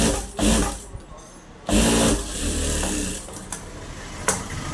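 A sewing machine stitches along a folded blouse seam in short bursts, the motor running loud then pausing, with someone talking over and between the runs.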